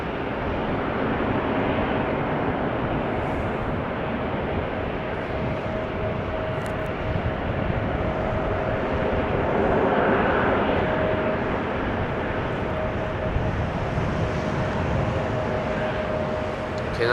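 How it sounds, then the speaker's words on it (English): A KLM Embraer 195 E2 narrow-body jet taking off from runway 18 Left at Amsterdam Schiphol, heard as a steady, distant broadband engine roar with a faint whine that swells gently midway. "narrow bodies taking off from 18 left. E2 Embraer 195 KLM lined up."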